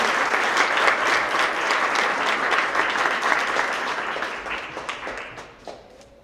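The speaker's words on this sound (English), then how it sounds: "One more round of applause for all these honest students." A crowd of students and families at a school winter award assembly for grades six to eight gives sustained, loud applause that fades out near the end.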